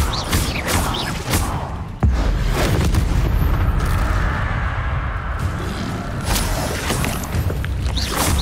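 Incendio fire spell cast in the Hogwarts Legacy video game, a loud booming burst with a sharp thud near the two-second mark, followed by a sustained roaring, crackling rumble that holds steady to the end with no talk.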